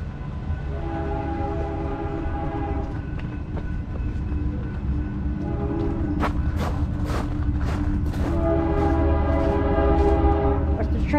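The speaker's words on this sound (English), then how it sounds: "Watch the train come through." A train rumbles steadily past up close in Wickenburg, its sustained horn blaring in long tones and growing louder toward the end.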